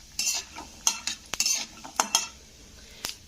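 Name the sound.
peanuts frying and being stirred in oil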